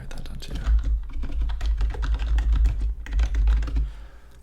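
Steady, fast computer keyboard typing, close and crisp, with dense clustered keystrokes running throughout and no voice over it.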